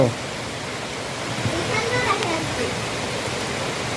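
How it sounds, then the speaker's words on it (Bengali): Heavy rain pouring onto a pond gives a dense, even hiss with splashing texture, steady throughout, with no clear voices. "পেছন দিকে দেখা যাচ্ছে পুরো পুকুরটায় সুন্দর বৃষ্টি পড়ছে চারদিকে"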